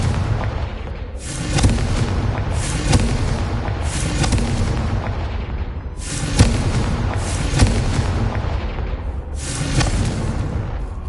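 Repeated fire-spell explosions from Hogwarts Legacy, heavy booming blasts bursting roughly every second or two in a loud, continuous barrage with no talk.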